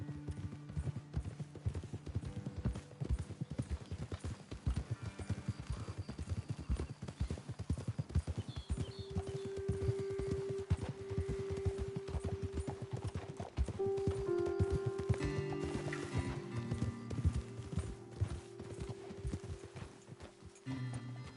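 Steady clip-clop of horse hooves trotting along in Red Dead Redemption 2, with an occasional whinny and soft ambient music underneath.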